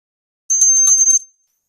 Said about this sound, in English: We'll begin with the ringing of the bell, and then we'll go into our meditation.